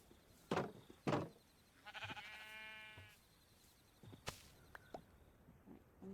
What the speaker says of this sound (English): There, now we got some sheep.